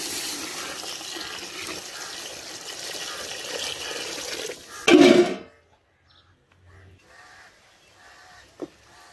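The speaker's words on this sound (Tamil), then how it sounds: "5 கப்பு தண்ணி சேர்க்க போகிறோம்" Five cups of water splash and pour steadily into a pot for nombu kanji rice porridge for several seconds, ending with a brief louder gush, followed by near silence and a faint clink.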